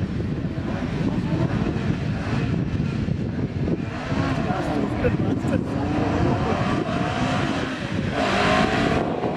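An Audi 80 rally car on a rally stage in Zotzenbach revs and passes by at a steady, fairly loud level, with a commentator talking over the engine noise throughout.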